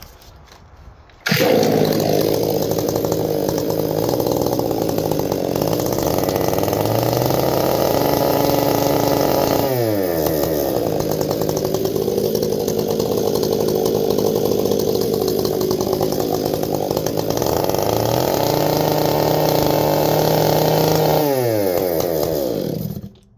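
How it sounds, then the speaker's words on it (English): A Stihl chainsaw with its oiler turned all the way down starts up and runs loud and close for about twenty seconds, its engine note rising and falling between idle and throttle, then cuts off. "maybe I'll turn the saw on and show you how much more it oils"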